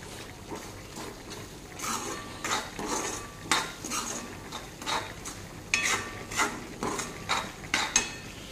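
Stirring a tomato mixture cooked with chilli and salt in a pan over low heat, with repeated scraping and clinking of a spoon against the metal pan, steady and close, with no talk.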